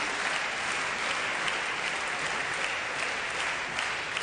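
Spectators at a 1997 badminton World Championships men's singles quarterfinal clap steadily, a continuous, moderately distant wash of applause across the hall that keeps an even level throughout.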